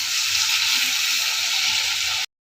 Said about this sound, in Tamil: தக்காளி, கருவேப்பிலை, நல்லா வதங்கணும்